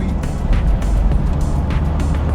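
Steady low engine drone inside a Hyundai Terracan SUV accelerating in third gear from 60 to 80, with road rumble and a constant hum, no clear pauses.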